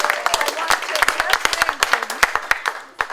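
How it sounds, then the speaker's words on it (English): A crowd at a house gathering claps and cheers for a guest named Ron, giving a short burst of brisk, uneven applause that is loud and close, then thins out. "Cheer for Ron."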